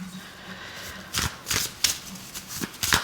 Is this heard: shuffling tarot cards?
yes